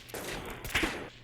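Shots from a vintage revolver rifle in Fallout 4, two sharp cracks about half a second apart, each with a brief echoing tail, fairly close, no talking.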